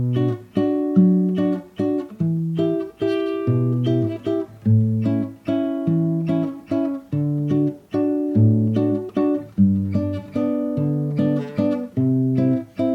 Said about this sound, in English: So I just took the bass note from the root to the 5th,